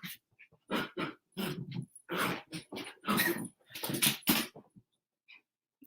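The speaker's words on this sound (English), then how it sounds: "my puppy is losing her mind right now and she's showing off" A puppy whimpers and yips in a string of short, close bursts with brief pauses between them, and no talking over it.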